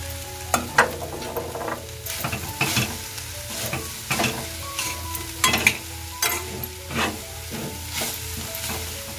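Grated coconut and jaggery get stir-fried in a pan for modak filling, with a soft sizzle broken up by repeated scraping and clinking of a spoon against the pan, close and with no one talking.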